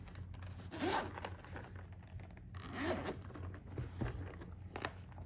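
An imitation leather carrying case for a head shaver is unzipped, two close, quiet zipper pulls with soft scraping and rustling between them.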